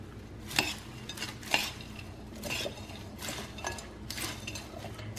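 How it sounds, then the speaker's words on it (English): A Caesar salad kit with bacon and dressing stirred in a bowl, making soft, close rustling and scraping strokes with occasional light clinks of a utensil against the bowl, quiet and unhurried. "And I'm going to just stir it."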